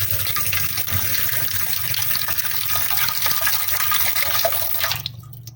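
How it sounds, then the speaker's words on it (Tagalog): Cold tap water runs steadily over freshly boiled eggs, making a loud, continuous gushing splash for about five seconds before it stops abruptly. "So, lalagyan ko siya ng malamig na tubig."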